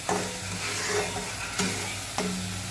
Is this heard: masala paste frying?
yes